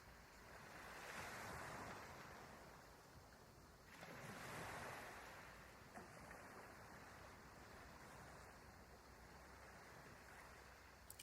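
Ocean waves roll in and wash over the shore in two broad, soft swells, then settle into a steady hiss of surf with some wind noise, calm and unhurried, with no voices.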